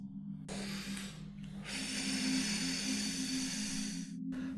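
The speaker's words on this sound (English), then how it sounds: "In slow motion, the breath control will sound like this." A Taekwon-Do practitioner breathes out in a long, controlled hissing exhalation during a slow-motion technique, close and steady, broken by short pauses between breaths, with no talk.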